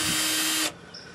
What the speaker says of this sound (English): So with your handy dandy drill and your 5/16 inch driver bit